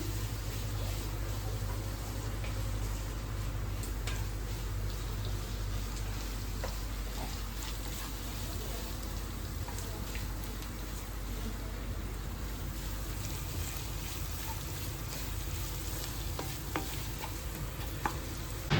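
Curry leaves and turmeric sauté in a pan with a soft, continuous sizzle and light stirring noises under a steady low hum, fairly quiet, with a few faint clicks and no talking.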